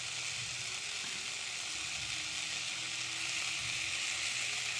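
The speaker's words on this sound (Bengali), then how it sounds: "আর একটু ভেজে নেব, সর্ষে দিয়েছি তো একটুখানি কষিয়ে নেব" Mustard paste curry for a rohu fish and cauliflower jhol fries in a pan, giving a soft, even sizzle that stays constant and fairly quiet throughout.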